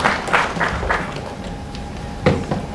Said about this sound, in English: Let us welcome him with a warm round of applause.